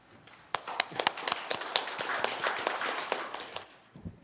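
A modest audience at a city council policy forum on a library construction collapse gives a short round of applause, sparse, distinct claps building quickly and fading out after a few seconds.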